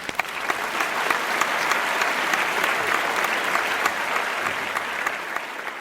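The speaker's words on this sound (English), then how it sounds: "So let's give her a warm round of applause." A warm round of applause for a mayor at a Protect Our Home with L.O.V.E. event, a dense, steady clatter of many hands filling the room without pause, loud and sustained from start to finish.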